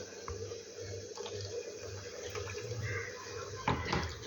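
Water trickles and splashes faintly as it is poured into slightly sour curd to loosen it for pulissery, a continuous soft pour with a light splash near the end.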